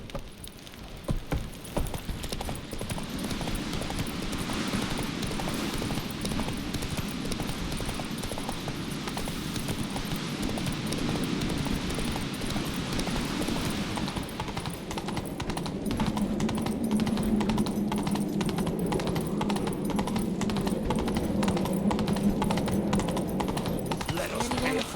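Hooves of a galloping horse in The Witcher 3 pound in a fast, steady clip-clop, loud and close, continuing under a swelling musical and ambient bed through the stretch.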